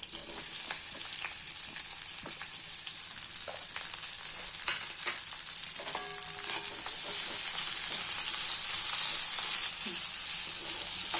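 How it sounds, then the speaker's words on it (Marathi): Onion, tomato and garlic sauté in oil for a spicy prawn curry, giving a steady, fairly loud sizzle with occasional soft stirring scrapes and no voices. "कांदा आणि टोमॅटो थोडंसं तेलावर परतून घ्यायचं आपल्याला"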